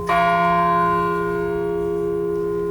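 A single deep bell is struck once and tolls with a long, steady ringing hum that slowly fades, heard alone and fairly loud.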